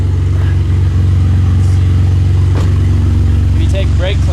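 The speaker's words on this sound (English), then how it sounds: "the revs hang up a little bit" A loud, close BMW E46 engine idles with a fast, even throb, its revs hanging slightly high, with faint clatter and brief squeaks over it.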